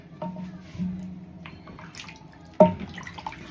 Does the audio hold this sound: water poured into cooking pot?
yes